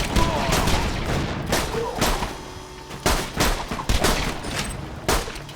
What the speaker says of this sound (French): je vais utiliser le fusil à pompe avec un pistolet pour économiser les munitions